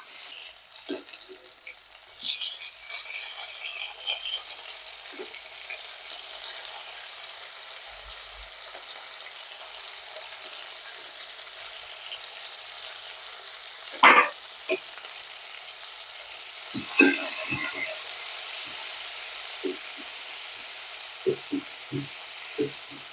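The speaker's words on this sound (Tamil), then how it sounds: "தக்காளி சேர்த்துனதுக்கு அப்புறம் வந்து ஒரு ரெண்டு நிமிஷம் வதங்கட்டுங்க" Tomatoes sauté in a pan with fennel seeds for a Kongu-style green turkey berry tamarind kuzhambu: a soft, steady sizzle runs throughout, broken by a few sharper stirring scrapes and clinks partway through, with no one talking.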